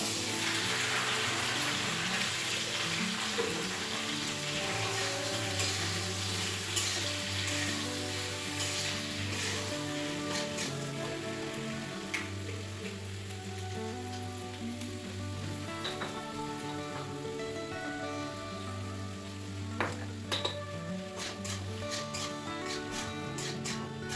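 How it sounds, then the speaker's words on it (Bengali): Onion stalks sizzle as they fry in an old nonstick wok, a dense, steady hiss and crackle that continues close and unbroken, with occasional sharper pops and no talking. "পেঁয়াজ কলিটা এখন ভাজা বসিয়ে দেবো এই কড়াইতে।"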